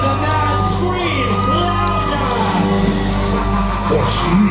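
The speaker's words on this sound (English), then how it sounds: "If you love me, you'll scream for me." An audience screams and cheers at a Disney villains stage show, a loud continuous crowd roar with shrill whoops and children's shouts throughout.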